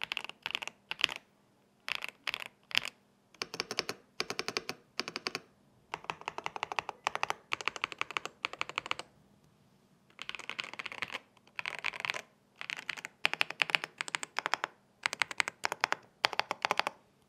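Typing on an EpoMaker DynaTab 75 mechanical keyboard, close and crisp, with quick bursts of key clacks separated by brief pauses and no talking.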